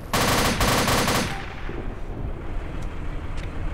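Loud, rapid machine gun burst from a military video game, lasting about a second before trailing off into distant gunfire and battlefield rumble, with no talking.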